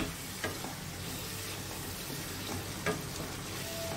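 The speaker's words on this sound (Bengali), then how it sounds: "এভাবে করে যত সময় তেল না ছাড়বে তত সময় কষাবো" Potato, prawn and spices sautéing in hot oil in a pan, with a steady close sizzle and a few stirring scrapes.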